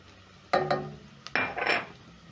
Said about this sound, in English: So to my pot, I'm going to add in my spices